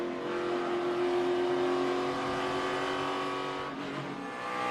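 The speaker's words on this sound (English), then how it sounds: "let's ride with Denny Hamlin, who is still on the lead lap after his troubles" A NASCAR Cup race car engine roars from an onboard camera, with sustained loud harmonic engine tones that shift in pitch. The engine stays near and loud throughout with no talking.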